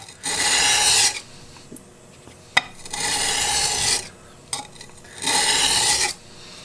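Three long, harsh rasping strokes grind the iron of a Sargent 414 hand plane along its bevel, each about a second long and close up, separated by short pauses with light clinks and no talk.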